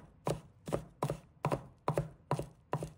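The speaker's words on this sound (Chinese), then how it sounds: "接着，把拍碎的蒜切成蒜末，每一刀都切得细碎均匀" A kitchen knife minces smashed garlic cloves on a cutting board, seven sharp, evenly spaced chops about half a second apart, close and distinct with no talking.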